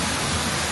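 Hot spring water flows in a steady, even rush of broadband noise, continuous and fairly close, with no other sounds standing out.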